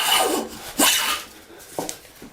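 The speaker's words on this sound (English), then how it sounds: "you're planing along nicely and something nice and easy like pine" A hand plane shaves pine wood in three or four quick, airy rasping strokes, each a short rising swish with a scraping edge, close by and fairly loud with no voices.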